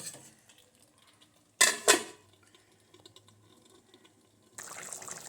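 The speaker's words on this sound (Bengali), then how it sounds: "চাপা দিচ্ছি ওই ঢাকনাটা দিয়ে দিচ্ছি" A metal lid clanks twice onto a chicken curry cooking pot, two sharp close knocks in a quiet kitchen, followed by faint rattles and then a soft, steady bubbling hiss.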